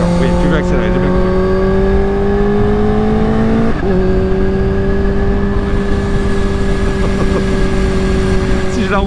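Kawasaki H2 motorcycle of 280 hp accelerating hard up close, its engine pitch climbing steadily, dropping briefly at a gear change, then climbing again, loud with wind noise and a rider talking over it.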